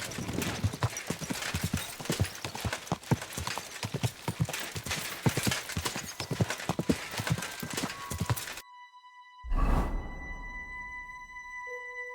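Steady clip-clop of horse hooves in Kingdom Come: Deliverance II, in a quick, even rhythm, then an abrupt cut to near silence, a brief loud burst, and sustained electronic tones.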